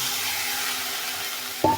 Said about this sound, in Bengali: আমার শুটকিটা একটু ভাজা হয়ে গিয়েছে, এর মধ্যে আমি একটু পানি দিয়ে দিচ্ছি